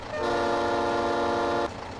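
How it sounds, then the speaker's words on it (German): A truck horn in Farming Simulator 22 blares one loud, steady, tonal blast of about a second and a half, then cuts off to a quiet background. "Eine richtige Hupe hat das Ding."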